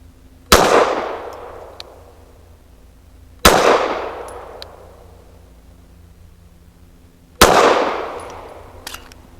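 BRG9 Elite Gen 2 pistol firing Fiocchi Defense Dynamics 147 grain hollow points, three loud, sharp shots spaced a few seconds apart outdoors, each trailing off in a decaying echo.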